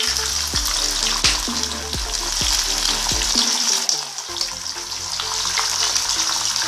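Eggs and sausages fry in a pan with a loud, continuous sizzle and crackle throughout, over quieter background music.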